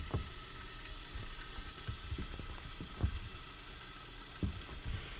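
Vegetables fry in a pan while being stirred, giving a soft continuous sizzle broken by a few close scrapes and knocks of a utensil against the pan, quiet and without talk.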